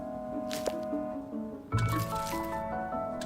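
Crops being watered in the farming video game Grimshire: soft liquid splashes and drips, with a fuller watery gush partway through, set over steady background game music.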